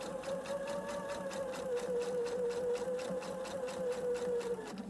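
A sewing machine topstitching a center back seam runs in one continuous, even stretch of steady rhythmic needle chatter over a humming motor tone, close and uninterrupted.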